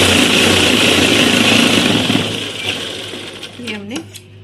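An electric sewing machine stitches saree pleats with a fast steady whir for about two seconds, then slows and fades while someone speaks nearby.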